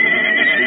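A horse whinnies in one loud, close, sustained call with strong harmonics, heard alone with no talk over it.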